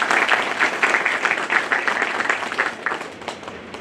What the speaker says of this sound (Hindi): जोरदार तालियों से नरेंद्र जी का